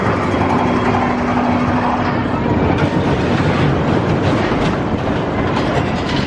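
Wacky Worm Big Apple roller coaster at Great Yarmouth Pleasure Beach, a steady loud rumble and clatter of the cars rolling along the track, continuous throughout.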